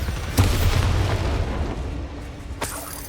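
In Hogwarts Legacy, a Bombarda spell explodes with a deep, booming blast that rumbles for several seconds, followed by a second sharp impact burst near the end.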